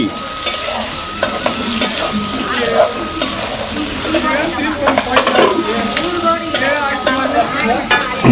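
Chopped onions frying in a pan for potato and egg fried rice, giving a steady, close crackling sizzle with scraping and stirring clatter throughout.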